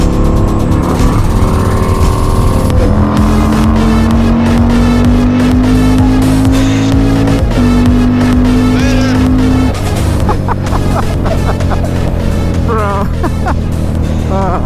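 Harley Iron, Indian Scout and Yamaha Bolt cruiser motorcycles accelerate on a highway in fourth gear, rolling on with steady engine drone and passing vehicle noise; loud and close, with brief talk mixed in.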